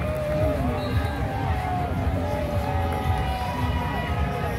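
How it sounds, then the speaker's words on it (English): A large outdoor crowd gathers on International Boulevard in front of the Hyatt Regency in Orlando for a Trump rally at CPAC 2021, a steady babble of many voices with scattered shouts and cheers, fairly close and loud. "We've got a hell of a crowd out here."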